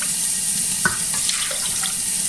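Hot water poured from a soup can into a cooking pot makes a steady, close pouring splash that runs unbroken for a couple of seconds, with a few small clinks partway through.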